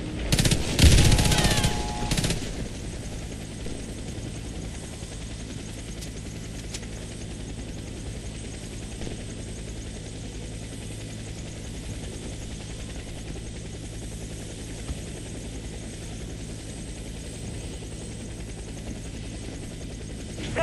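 Helicopter and machine gun fire in the video game Warface during an Apache co-op mission: a brief burst of loud gunfire in the first two seconds, then a steady droning rotor hum that carries on alone to the end.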